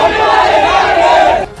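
A large political rally crowd chants slogans in support of a BSP leader during an election campaign, a loud, sustained roar of massed voices that holds steady before dropping off near the end.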